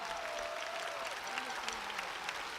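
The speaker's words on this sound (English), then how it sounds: "let's clap for that" A crowd at a celebration of a women's basketball season claps in a steady, even wash, moderately distant and quiet, with a faint voice or tone briefly rising beneath it.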